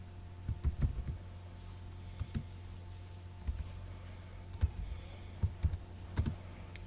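Keys clatter in uneven bursts as a GW-BASIC program is typed on a computer keyboard, the clicks fairly faint over a steady low electrical hum, with pauses between groups of strokes.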